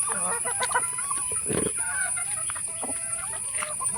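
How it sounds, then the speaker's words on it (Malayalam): Several chickens cluck and murmur nearby in short, irregular bursts over a constant high-pitched background whine. "കോഴിക്കളെ വിട്ടുകാണ്ട് ഒലിക്ക് തിന്നാനും കൊടുത്തുകാണ്ട്"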